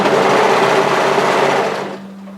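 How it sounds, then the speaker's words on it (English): A sewing machine runs loud and close, stitching around a fabric slouchy beanie hat in one steady burst that stops just before the end, leaving a faint hum. "And just continue sewing all the way around until you start stitching on top of your previous stitching."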